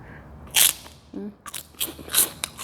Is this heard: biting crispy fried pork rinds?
yes